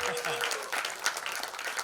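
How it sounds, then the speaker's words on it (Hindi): Audience clapping at a film trailer launch event in India, a steady dense patter of applause continuing throughout, with voices mixed in. "एक बार जोरदार ताली बजाइए"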